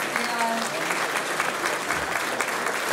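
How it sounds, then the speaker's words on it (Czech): An audience at a folk music performance applauds young clarinet players after a clarinet solo in a song, a dense, steady clapping from a crowd with a voice briefly heard over it near the start. "úžasní mladí klarinetáci Krištof a Marek, můžete jim zatleskat ještě"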